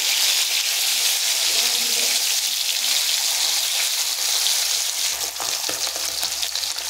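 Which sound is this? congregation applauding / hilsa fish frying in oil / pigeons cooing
hilsa fish frying in oil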